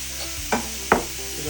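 Onion, celery and carrot sauteing in a pan: a soft continuous sizzle broken by two quick stirring scrapes up close.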